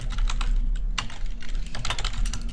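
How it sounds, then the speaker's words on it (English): Fingers tap out text on a computer keyboard in quick, uneven bursts of close, crisp key clicks over a faint steady low hum, with no one speaking. "I'm going to now start typing in this box off to the left"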